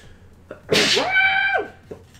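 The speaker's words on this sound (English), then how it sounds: "I might sneeze soon, possibly. Yes, sneezing." A single loud, close sneeze bursts out sharply and trails into a drawn-out voiced ending, with quiet room noise around it.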